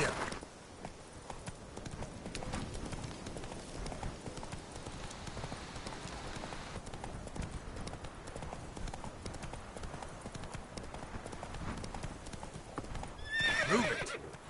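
A horse in The Witcher 3 gallops with steady rhythmic hoof clip-clops, ending in a loud neigh near the close, with brief spoken words at the start.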